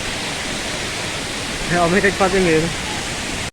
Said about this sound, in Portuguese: finalmente chegamos aqui na Cachoeira dos Macacos